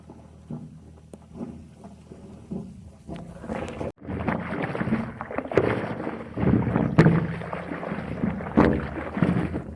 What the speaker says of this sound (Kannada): ಇದೇನು ಸೌಂಡಪ್ಪ ಅಂದ್ರೆ ನೀರು ಬರತ್ತದ್ರಿ